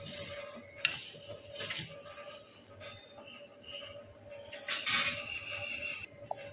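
Spoon stirring sweet pongal in a cooking pot, with soft scraping and clinking against the metal over steady low background noise, close and moderately loud, no talking.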